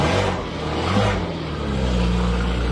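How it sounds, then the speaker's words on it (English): Loud BMW 135 engine heard from inside the car while driving, a steady low droning rumble that holds throughout with slight swells, no one speaking. "I'm in the 135 and it's very loud, as you can probably hear"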